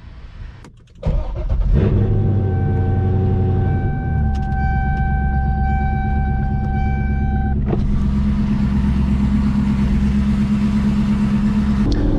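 A 500-horsepower C6 Corvette starts up and drives off, its deep engine rumble rising and then holding a steady, loud drone while cruising, heard close from inside or near the car.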